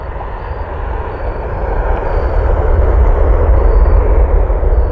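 Boeing 757 and 737 airliners landing at Cleveland Hopkins International Airport, heard as a steady low jet roar that swells gradually and stays loud throughout, with no talk.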